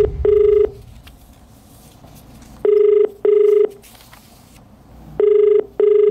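A telephone ringback tone repeats in a steady double-pulse pattern, three pairs of loud clear beeps separated by quiet gaps, with no voices.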